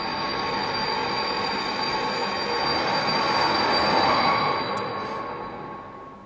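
A train squeals its wheels as it pulls into Moulins-sur-Allier station, a steady loud metallic screech over rumbling rolling noise that swells and then eases off as it slows, with no talk.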